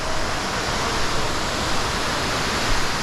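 A roaring waterfall inside a large cave gives a dense, unbroken rush of water, loud and close, filling the space evenly with no voices.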